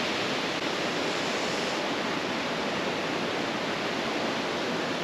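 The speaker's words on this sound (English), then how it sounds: "I can hear the waterfall" Steady, dense rushing water from a waterfall at Kedleston Hall, Derby, fills the whole clip, a constant broadband roar without breaks, heard from a short distance.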